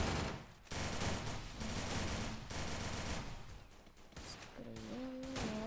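Gunfire in the mobile battle game Free Fire: dense bursts of rapid automatic shots roll on almost without pause, loud and close, with short gaps and a rising electronic game tone near the end.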